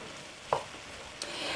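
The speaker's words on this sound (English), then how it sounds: "So you could just get that stirred up here." Chopped large onion being stirred in a pot for chili, with a soft frying hiss and two brief scrapes of a spoon against the pot.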